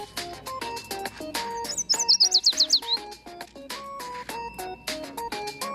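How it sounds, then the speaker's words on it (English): Bright bird chirps and a quick trilling call ring out over a plucked, melodic tune in the video game Blue Archive, with a steady musical beat. "The music of birds playing and chirping"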